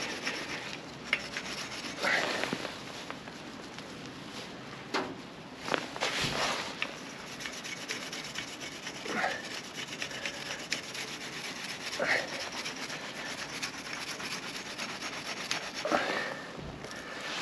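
Dried-on grease is scrubbed off the front wheel of a KTM motorcycle, giving faint, close rubbing strokes in irregular bursts against a quiet background.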